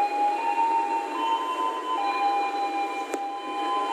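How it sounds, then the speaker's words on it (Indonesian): The Argo Bromo Anggrek train waits to depart Surabaya Pasar Turi station. A steady mechanical hum carries high, thin whining tones, and a single sharp click sounds near the end. "ini kereta api Argo Bromo Anggrek persiapan berangkat dari stasiun Surabaya Pasar Turi"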